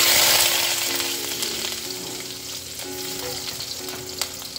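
Chopped onions sizzle steadily in hot oil in a home kitchen pan, a dense close frying hiss with occasional light stirring scrapes, no voices.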